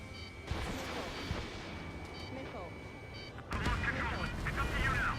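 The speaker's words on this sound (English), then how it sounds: "Strider 1, missile launched." Missile launch from a fighter jet in Ace Combat 7, a sudden louder whoosh and roar surging partway through over a steady engine drone, with radio voices talking throughout.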